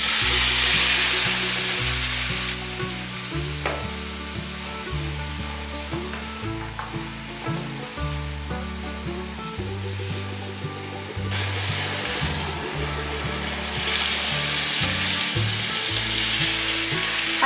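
Cabbage stir-fried in a wok, a loud continuous sizzle with repeated scraping tosses of the spatula throughout, close and steady with no voices.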